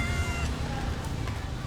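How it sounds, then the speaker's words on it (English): A black cat meows in a back alley in Indonesia, its cries standing out over a steady wash of street noise. "We've got a black cat here."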